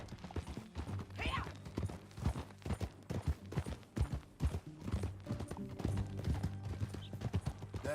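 Horse hooves clip-clop in the Red Dead Redemption 2 video game, a steady rhythmic series of close thuds over a low hum, with a brief whinny-like burst near the start and no talk.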